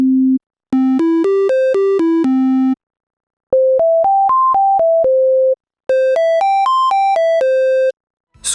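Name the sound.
synthesizer triangle wave oscillator tone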